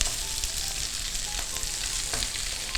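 Udon noodles stir-frying with cabbage and bacon in a hot pan, a steady close sizzle with occasional stirring scrapes throughout, no voices.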